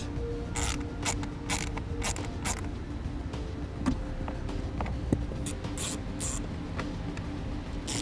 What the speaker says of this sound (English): we're using a 7mm socket to take them out.